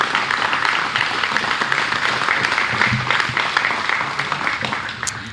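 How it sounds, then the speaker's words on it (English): A crowd applauds emergency responders honored for a trench rescue operation, continuous moderately loud clapping from many hands that eases slightly toward the end. "Can we please give them all a sounding round of applause?"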